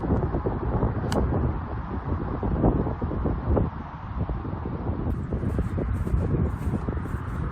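Strong wind on a golf course buffets the microphone in a constant loud rumbling roar that gusts and never lets up.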